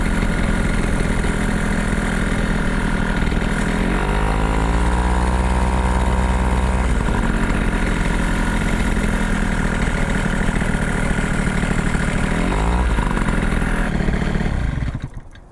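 A homemade motorcycle driven by a paramotor engine idles with a steady, buzzing mid-pitched drone that wavers slightly in pitch before cutting off at the end; no voices.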